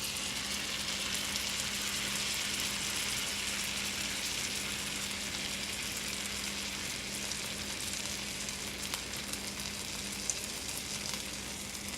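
Food sautéing in butter in a pan gives off a steady, close sizzle with a faint low hum beneath it, holding even for the whole stretch with no talking.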